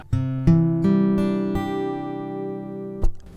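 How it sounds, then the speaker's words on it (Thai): Clean electric guitar with no chorus effect, notes picked one after another into a sustained chord that rings steadily, then a final pluck near the end. "อันนี้คือเสียงแบบไม่มีคอรัสนะครับ"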